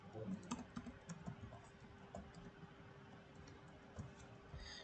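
Fingers tap on a computer keyboard, a quiet, close run of quick irregular key clicks that thins out after the first few seconds, with no talk.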